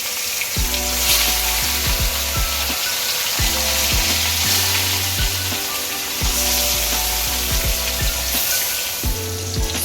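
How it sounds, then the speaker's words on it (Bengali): Pieces of rohu fish fry in hot oil in a wok with a dense, continuous sizzle and crackle, steady and close throughout, while a deep rhythmic thumping runs underneath. "মাছগুলোকে আমি অল্প ভেজে নেবো"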